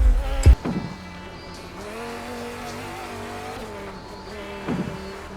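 Race car engine in the video game Midnight Racing: Tokyo, a stock car holding a steady high revving note with brief thumps and tire noise at the start and near the end, no voices.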